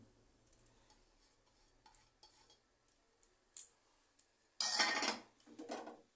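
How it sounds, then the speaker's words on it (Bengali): A spatula stirs begun bharta, mashed eggplant with chopped green chilli and coriander leaves, in a pan: soft scattered scrapes and taps, then a louder, longer scraping burst, quiet overall. "এটাকে ভালো করে আর একটু নেড়ে চেড়ে নামিয়ে ফেলতে হবে"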